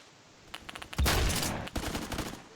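Rapid gunfire from a video game gun, a quick series of close shots that swells into a loud continuous burst and then breaks into further spaced shots, with no talk over it.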